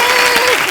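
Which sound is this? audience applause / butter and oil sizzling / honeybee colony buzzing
audience applause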